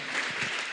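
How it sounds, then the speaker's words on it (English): A crowd at a scholarship award ceremony applauds, a brief steady wash of many hands clapping heard on its own. "Let's clap for them, ladies and gentlemen"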